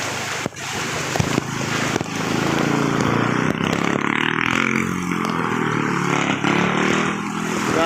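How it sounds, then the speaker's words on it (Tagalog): A motorcycle rides through deep floodwater from Typhoon Carina in Kasiglahan Village, Rodriguez (Montalban), Rizal. Its engine drones steadily under constant rushing, splashing noise, with a few sharp knocks near the start. "Oh, may motor pa oh."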